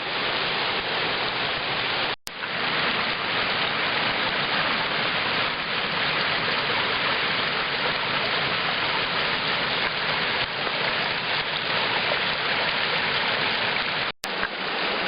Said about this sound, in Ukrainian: Вдалині ось там водоспад